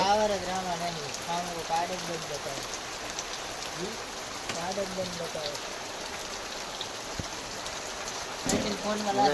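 Steady heavy rain hisses throughout while someone talks over it in bursts, his voice close and clear above the downpour.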